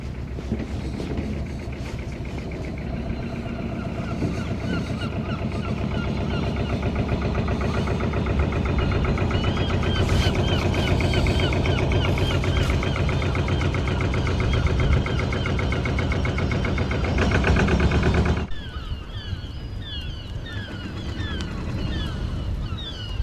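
A fishing boat engine chugs steadily and loudly with a rhythmic throb as the boat heads out of Portsoy Harbour, North East Scotland, then drops away abruptly, leaving wind and softer background noise.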